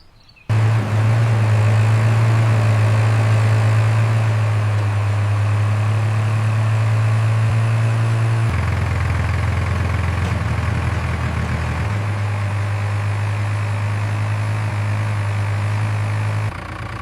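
Tractor engine running steadily at close range, a loud continuous low drone whose pitch shifts partway through as it approaches, with no talk.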